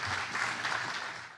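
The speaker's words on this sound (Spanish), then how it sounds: "Por favor, un aplauso para ellos." Audience applauds panel guests at a marketing summit, a full burst of crowd clapping that stays strong and then fades at the very end.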